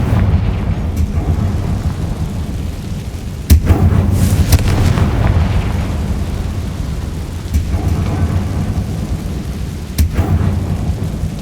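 Casting Confringo in Hogwarts Legacy sets off several sharp explosive cracks at intervals, each followed by a rumbling boom over a loud, steady background roar.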